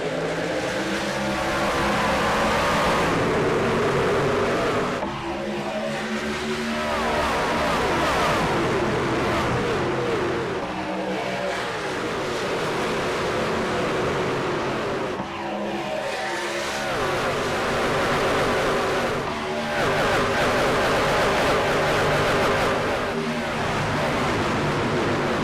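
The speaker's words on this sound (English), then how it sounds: "sound of the trucks back up to speed at the top of fourth gear" Race trucks at Charlotte Motor Speedway in iRacing, engines roaring loudly and continuously as they accelerate back up to speed in fourth gear, with repeated surges and shifts as trucks pass.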